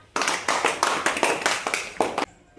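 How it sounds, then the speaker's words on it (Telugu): A group of primary-school children clap together in a classroom, a close, loud burst of about ten sharp claps in an uneven rhythm that stops abruptly, with no talking. "క్లాప్స్ మా."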